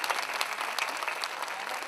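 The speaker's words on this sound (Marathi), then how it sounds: "त्यांच्यासाठी एकदा टाळ्या द्या." A crowd at a demonstration applauds, a brief burst of many hands clapping together, steady and moderately loud throughout.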